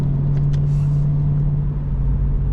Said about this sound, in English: that car's loud